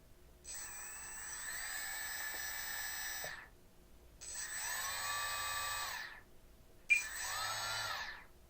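A model aircraft brushless motor on an FT Power Pod with the ESC brake off and no propeller whines up in three separate runs, each high tone gliding down as the motor coasts to a stop; quiet and close.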